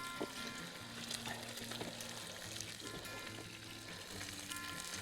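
Breakfast frying and sizzling in a pan over an outdoor campfire, a steady crackling hiss with scattered scraping clicks from a utensil being stirred through it, close and moderately quiet.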